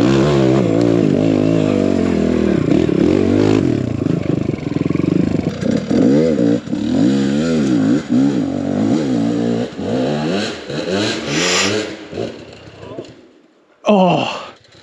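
A built Kawasaki KLX140 dirt bike rides a frozen-ground extreme enduro course, its engine loud and close as it revs up and down in rapid surges with clattering, then cuts out briefly before a sharp final burst.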